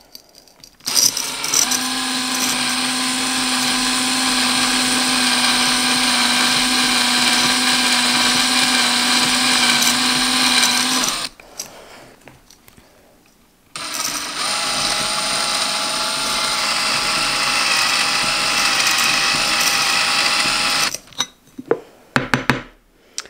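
A drill whines loudly and steadily as it bores into a ceramic pot from the inside, running in two long bursts with a short pause between, then stopping.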